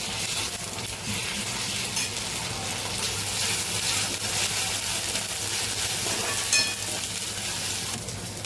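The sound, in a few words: ginger garlic paste sizzling in cooking dal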